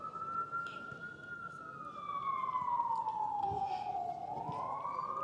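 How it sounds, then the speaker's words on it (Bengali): An ambulance siren passes nearby, its single wailing tone sliding down and back up and growing louder over a low rumble of road traffic. "পাশে অ্যাম্বুলেন্স যাইতেছে।"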